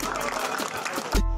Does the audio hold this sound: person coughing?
no